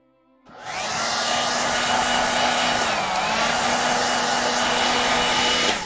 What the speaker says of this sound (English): Gonna bust out the hairdryer here so it might make some noise.